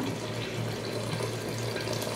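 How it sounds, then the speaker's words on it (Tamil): Water poured from a cup into a cooking pot of chicken, a steady, close splashing pour lasting a couple of seconds with no talking. "நம்ம ஒரு கப் அளவு வந்து தண்ணி கம்மியாக ஊற்றிக்கணும்."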